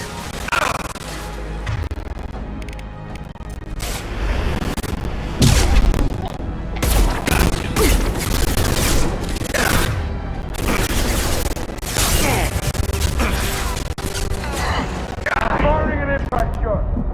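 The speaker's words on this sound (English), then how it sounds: "Firing an impact shot." Gunfire and explosive booms from a Mass Effect firefight, with repeated sharp shots and heavy impacts in a dense, loud battle mix under music and shouted voices.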